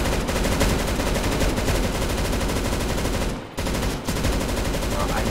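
Sustained rapid automatic gunfire from the video game CS:GO, loud and continuous, with a brief break near the end before the shots resume.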